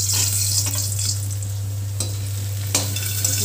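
A calamus rattan shoot stir-fry is stirred in a pan, giving steady scraping and sizzling with a few sharper clinks. A constant low hum from the stove runs beneath it throughout.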